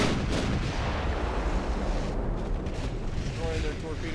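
Warship main guns and secondary batteries in a naval battle game boom continuously, a dense, loud wall of heavy cannon fire and rumbling blasts with no pause.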